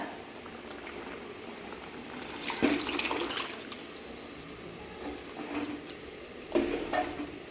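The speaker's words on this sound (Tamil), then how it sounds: "அந்த பருப்பு தண்ணி சேர்த்துக்கிறேன்" Mashed lentil water poured into a pot of boiling Tamil sambar on a home stove, a soft liquid splash and bubbling simmer with brief louder pours, quiet and close with no talk.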